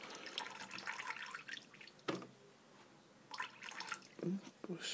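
Water from an ionizer purifier filling a bowl, an intermittent splashing and trickling stream that starts and stops in bursts, fairly faint and close by.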